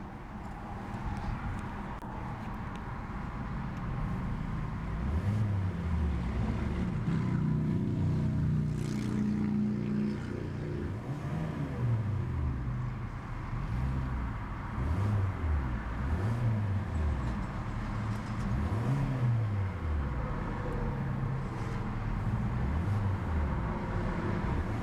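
A 2014 Hyundai Elantra SE's 1.8-liter four-cylinder engine revs repeatedly, several rising and falling swells of engine note over a steady idle, close and loud with no talking.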